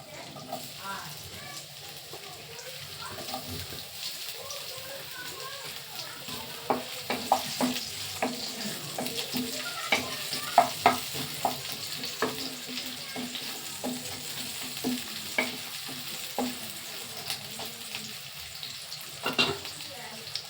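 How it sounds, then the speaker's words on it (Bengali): Chopped onions frying in hot oil in a wok, a steady low sizzle broken by frequent spatula scrapes and clicks throughout, with faint speech now and then. "তেলটা গরম হয়ে গেছে বন্ধুরা এর মধ্যে দিয়ে দিচ্ছি আমি পেঁয়াজ কাটাটা"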